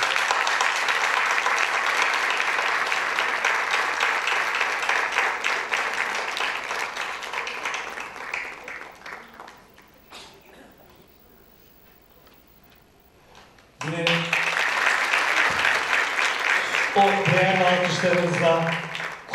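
An audience applauds at a Turkic world theatre festival event: dense clapping that gradually fades into near silence, then a fresh loud round of applause with a voice heard over it.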